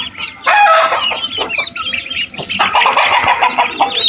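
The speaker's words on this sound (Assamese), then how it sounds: "কুকুৰা পোৱালি" Chickens and chicks clucking and cheeping on a farmyard, a dense run of close, overlapping calls that pauses briefly before the clucking resumes.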